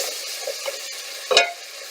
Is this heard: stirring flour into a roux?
yes